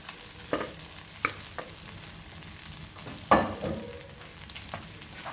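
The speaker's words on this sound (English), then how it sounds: "So we'll add our rice to this. And mix this nicely." Cooked rice is stirred and tossed in a frying pan for lemon rice, with a soft continuous fry broken by sharp spatula scrapes and taps at irregular intervals.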